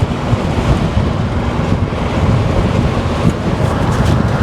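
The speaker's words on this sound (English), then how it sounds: "Ooh, it's getting a little windy." Loud, steady wind roars and buffets continuously through an open-bodied 1979 GMC Caballero with no windows at highway speed, broadband rushing with low rumble throughout and no voices.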